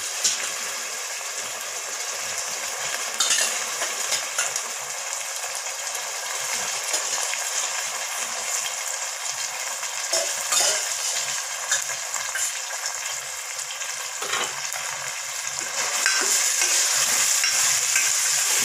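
Mutton pieces sauté in hot oil with softened onions, a continuous sizzle broken by repeated scraping and stirring strokes, close and fairly loud, with no one talking.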